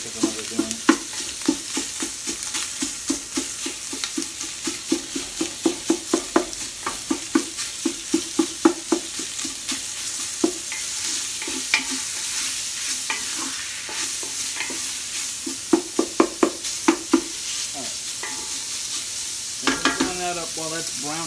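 Ground beef browning in a hot pan for chili, a steady sizzle under repeated rhythmic scrapes and taps as a utensil breaks up the meat, close and continuous.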